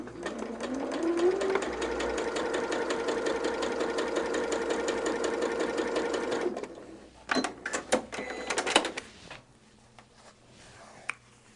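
A sewing machine stitches a 1/4-inch seam along a quilt border, running steadily for about six seconds before stopping, followed by a few short clicks and handling noises.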